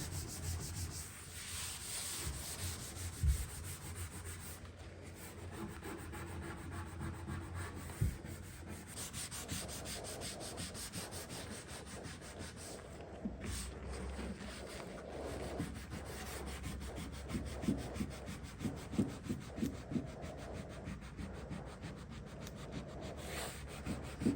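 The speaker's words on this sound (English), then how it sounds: "So I'm just using a light abrasive." Light abrasive pad, such as fine steel wool or a Scotch-Brite pad, rubbed across a wooden furniture surface, producing a soft continuous scratchy swishing in steady back-and-forth strokes, close and quiet.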